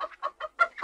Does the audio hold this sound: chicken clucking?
yes